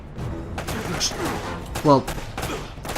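Gunfire from automatic long guns and pistols in Uncharted: Drake's Fortune, with irregular shots and bursts crackling through busy game noise and a loud blast near the middle.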